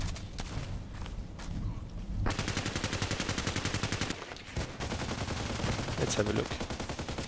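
Rapid gunfire in the online shooter Contract Wars, with dense automatic bursts and sharp repeated cracks filling most of the clip, loud and close, while a voice talks briefly over the shooting.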